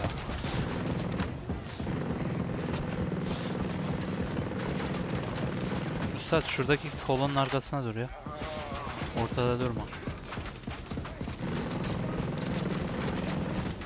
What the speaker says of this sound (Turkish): Lan drone varmış ya.